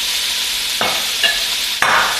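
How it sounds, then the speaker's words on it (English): Chopped asparagus and other vegetables are stirred in a pot, giving a close sizzling hiss with three scraping strokes of the spoon spaced about a second apart; no one speaks. "we're just gonna stir to incorporate those veggies"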